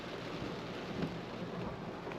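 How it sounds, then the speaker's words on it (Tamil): Heavy rain pours down steadily outdoors at a villa in Kosgoda, Sri Lanka, a dense, unbroken hiss with no pauses, fairly soft and distant overall. "நல்ல மழை அடிச்சு ஊற்றுது மழை"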